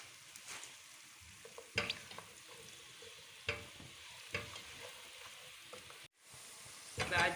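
Ground cumin, ginger and paprika stirred with onions in a pot for meatball biryani, giving a quiet, steady sizzle broken by a few sharp scraping strokes of the spoon.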